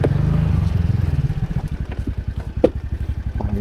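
A motorcycle engine thumps in a steady, loud idle rhythm close by as the bike is brought into a parking spot, the pulses growing more spaced and uneven.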